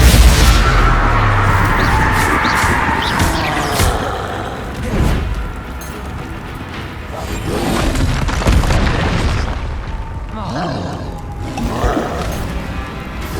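Confringo blasting spells cast in the wizarding game Hogwarts Legacy, a series of heavy booming explosions and crashes, loud at first then recurring in scattered bursts.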